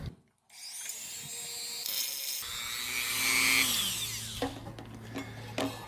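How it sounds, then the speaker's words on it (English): A Dremel rotary tool grinds metal motorcycle tubing for a Vulcan 750, its high whine rising and shifting steadily for several seconds, close and loud, with a few sharp scrapes near the end and no talking. "I'm going to fire up the Dremel here and get to work."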